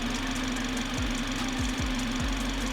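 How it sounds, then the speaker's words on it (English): BMW G20 engine running steadily after a JB4 tune, a continuous close, loud drone with a low hum and occasional brief knocking thumps, no talk. "Engine sounds different now."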